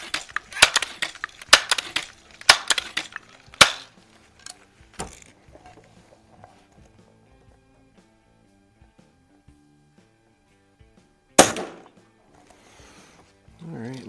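A Crosman Legacy 1000 air rifle fitted with an upgraded scope fires a single sharp crack after a run of clicks and handling knocks, followed by quiet.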